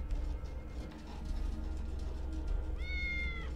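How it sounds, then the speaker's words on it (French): A cat in a video game gives one clear, rising meow near the end, over a low steady game hum and with no talk. "je dirais qu'il s'agit d'un chat."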